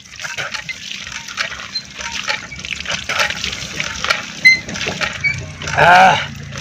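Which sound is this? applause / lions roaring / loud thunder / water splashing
water splashing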